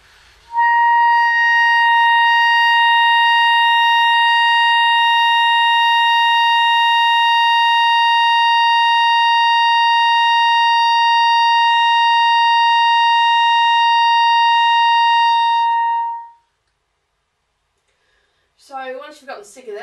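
Clarinet holding one steady high C for about fifteen seconds, loud, pure and unwavering, then cutting off before a short burst of speech.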